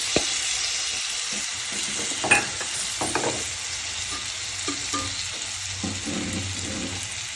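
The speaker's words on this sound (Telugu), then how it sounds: "కానీ నేనైతే కొంచెం గ్రేవీ కొంచెం రావాలనేసి ఫస్ట్ టమాటా వేస్తున్నా." Chopped tomatoes sizzle and fry in an oil-filled pan while a chicken curry cooks, a steady close crackle with a few brief stirring clatters near the start, and no voices.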